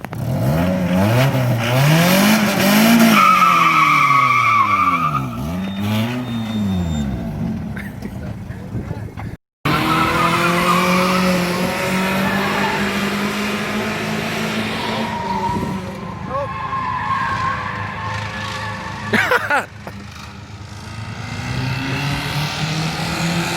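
Car drifting with the handbrake pulled, tires skidding and squealing in long sweeping bursts as the engine revs loudly, with a short break midway before the skid noise resumes; people shout and talk over it.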